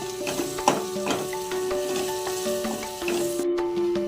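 Masala with coriander powder being sautéed in oil for dal tadka, a soft steady sizzle with occasional spatula scrapes and taps against the pan, close by and moderately quiet.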